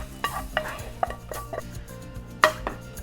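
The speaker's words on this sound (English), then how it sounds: "gently fry the onions for about 4 minutes" Onions frying gently in a pan while being stirred, giving a soft sizzle with scattered utensil scrapes and clinks against the pan, close and moderately loud, with no speech.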